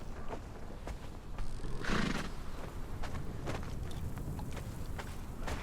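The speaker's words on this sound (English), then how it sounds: "They got a horse pen. You can raise horses and ride them and stuff." Horses in the video game Conan Exiles whinny and snort amid a steady clatter of hooves, one louder neigh rising in the middle over continuous background noise.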